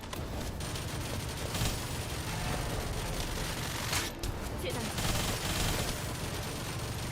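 Shooting in the video game The First Descendant, a dense continuous clatter of gunfire and impacts with someone talking over it.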